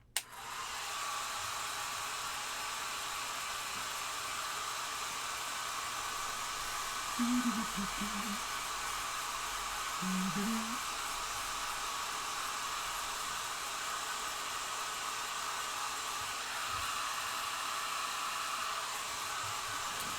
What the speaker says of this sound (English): I'm going to hit this with the air dryer just to kind of speed up some of this drying process here